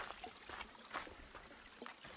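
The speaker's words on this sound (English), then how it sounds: "We got another little slow running waterfall, a nice pool." A small, slow-running waterfall trickles into a pool beside a desert hiking trail, with a soft, steady splashing and dribbling close by and no voices.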